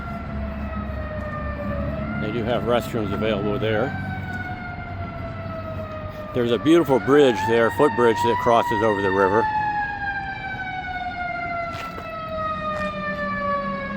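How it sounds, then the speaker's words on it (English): A fire truck siren wails loudly in a park in Fort Wayne, Indiana, its pitch rising and falling in repeated cycles as it passes nearby, while a person talks calmly over it. "And there goes a fire truck."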